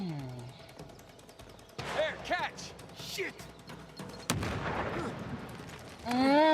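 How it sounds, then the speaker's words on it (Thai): An explosion in the video game Uncharted 4, played at PlayStation Experience 2014, cracks out as one sharp blast among gunfire-like game effects, while players talk and exclaim throughout. "โอ้โหระเบิดแล้วครับ"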